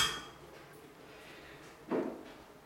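A cooking pot is set down once on a kitchen surface, a single short clunk standing out against quiet room tone in a home kitchen where a papaya dessert is being made.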